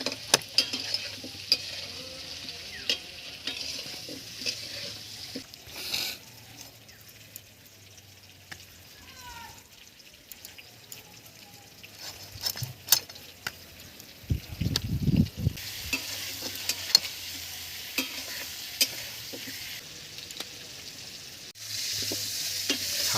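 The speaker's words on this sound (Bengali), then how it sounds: "আলুটা একটু ভেজে নেব।" Small potato pieces fry and sizzle in a pan over a village-style stove, with intermittent scraping and stirring clatter from a spatula and occasional louder bursts of frying.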